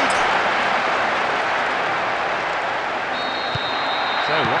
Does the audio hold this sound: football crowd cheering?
yes